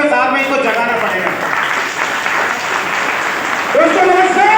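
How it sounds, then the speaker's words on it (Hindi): An audience at a wellness product meeting claps loudly and steadily, a dense close burst of applause mixed with crowd voices throughout, with a voice rising near the end. "एक बार जोरदार तालियों के साथ में इनको जगाना पड़ेगा"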